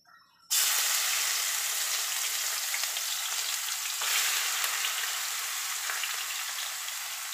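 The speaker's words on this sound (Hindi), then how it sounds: "चार प्याज लिए मैंने, उसको चॉप कर लिया। अब इसे भूनेंगे थोड़ी देर।" Chopped onions with a pinch of hing hit hot oil in a pan for white lobia masala, bursting into a loud, steady sizzle that holds continuously with faint crackles throughout.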